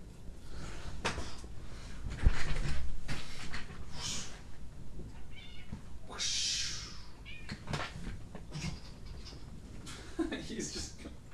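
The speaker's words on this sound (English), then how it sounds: "Come on, kitty, get out." A cat meows several times at close range, short plaintive cries scattered between rustling and household noise.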